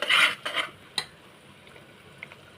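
Spices frying in oil for a bitter gourd curry: a few brisk stirring scrapes and clinks against the pan at the start, then a faint, quiet background sizzle with a light tap or two.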